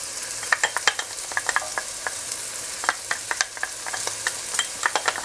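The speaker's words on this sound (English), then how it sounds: "just let them saute for about 2 minutes or less" Finely chopped vegetables and garlic sauté in a pan over a soft, even sizzle, broken by frequent sharp clicks and scrapes of a utensil stirring at an irregular pace.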